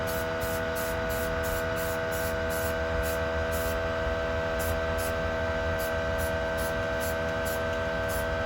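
Primer sprays onto a custom Skyline-style taillight for an Infiniti G35, producing a steady, close hiss of aerosol that holds evenly throughout over a faint background hum, with no one speaking.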